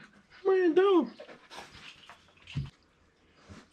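A puppy close by pants in quick breaths mixed with a few short whimpers, and a person speaks over part of it.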